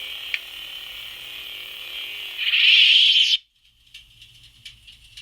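A metallic ticking, crackling hum holds steady then swells before cutting off, followed by faint scattered clicks and pings like cooling metal.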